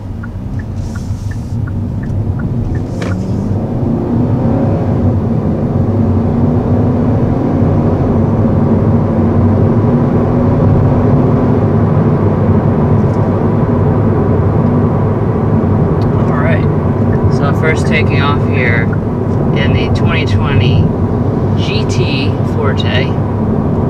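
A 2020 Kia Forte GT with a 201-horsepower engine drives on the road, giving a steady, loud low rumble of engine and road noise throughout, with brief higher chirps and clatter late on.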